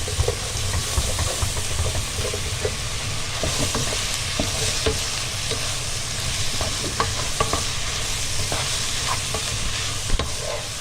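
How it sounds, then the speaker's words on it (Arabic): Onions stirred as they fry in tomato sauce in a pan, a loud continuous sizzle with scattered scraping and stirring taps running throughout, close by and without talk. "نقلب البصل في الصلصه."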